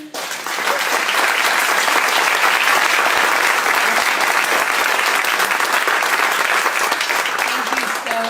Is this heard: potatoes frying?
no